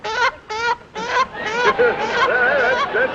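A human voice imitates a chicken with a run of clucking, warbling calls, starting in short separate bursts and then running together.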